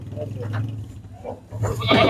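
Qurbani goats bleat close by in a couple of short, loud cries, with someone talking over the animals.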